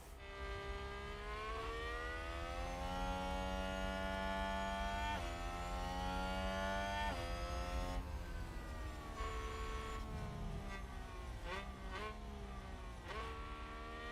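Formula 1 cars in the racing game F1 Manager 2022 produce a continuous high, whining engine drone that rises and falls in pitch as revs climb and drop, with several overlapping cars and no talking.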